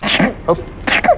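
A person sneezes in a room, a short, sharp burst followed by brief trailing vocal noises; people speak nearby.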